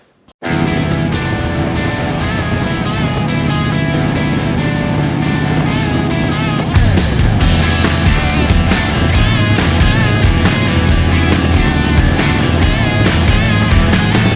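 Motorcycle riding on a new Saddlemen step-up seat: engine starts abruptly, then a steady loud drone of engine and wind roar, rising to a harsher, rhythmically pulsing note about halfway through as the bike pulls away.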